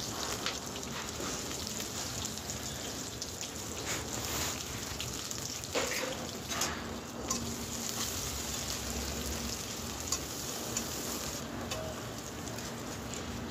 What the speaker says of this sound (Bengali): পেঁয়াজটাও ভাজা হয়ে গেছে।